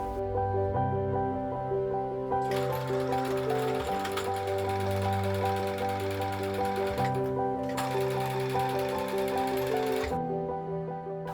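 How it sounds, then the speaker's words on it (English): A sewing machine stitches a seam while the waist of a garment is taken in. It runs in steady bursts that pause and restart, close and alone. "Now, let's sew."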